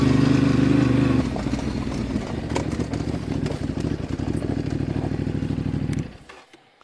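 A motorcycle engine drones nearby under steady throttle while climbing a hill, its pulsing note holding then climbing slightly before cutting off abruptly near the end.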